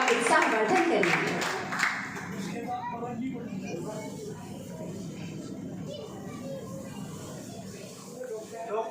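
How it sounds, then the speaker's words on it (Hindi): Audience applause greets a young performer stepping up to dance at a Delhi award ceremony for Class 10 and 12 students, a dense burst of clapping that is loudest at first, then thins and carries on under a speaking voice. "एक बार जोरदार तालियां बजाकर हम सभी मोनी जैन का उत्साहवर्धन करेंगे।"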